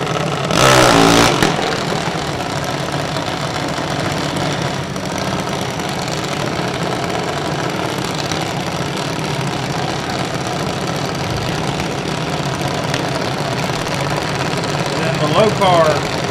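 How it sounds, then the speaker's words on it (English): Outlaw 450 dragsters at Kil-Kare Dragway drag strip, engines rumbling and idling loudly at a distance over a steady roar, with a sharp burst near the start and a public-address voice talking over it. "Outlaw 450 dragster"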